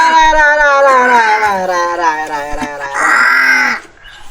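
A crow on a semi-organic farm gives loud, close, harsh cawing calls in quick succession, with one final strained caw before the calls stop.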